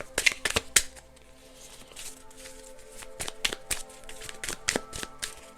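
Index cards are being shuffled and flipped in a series of crisp, papery riffles and snaps. Louder bursts come near the start, then lighter rustles continue steadily close by, with no one talking.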